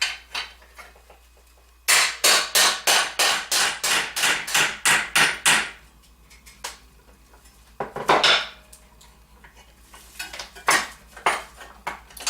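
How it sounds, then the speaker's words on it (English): A ball peen hammer strikes metal held in a vise in a fast, steady run of loud ringing blows, then pauses before scattered, sparser hits follow. "ball peen hammer and a vise"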